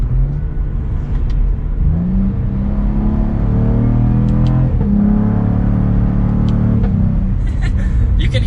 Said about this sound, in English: You can hear some pops in that exhaust.